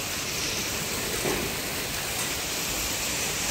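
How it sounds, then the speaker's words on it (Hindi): Heavy monsoon rain pours down in a steady, dense, loud hiss that stays even throughout, with no voices. "झमाझम बारिश हो रही है, पानी भी भरने लगा, देखो अच्छी खासी बारिश होने लगी है।"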